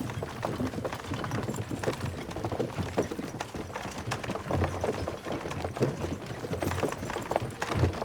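Horses' hooves clip-clop at an unhurried walking pace in Kingdom Come Deliverance 2, a steady uneven patter of hoofbeats close by, heard without speech.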